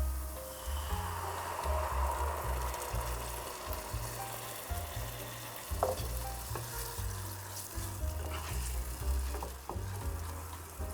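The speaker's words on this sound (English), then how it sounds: "now I'm gonna add my tomato puree and then I'm gonna lower it and let it simmer" Tomato puree bubbles and sizzles in a pan for an Italian tomato sauce, a steady close crackle with occasional stirring scrapes and no voices.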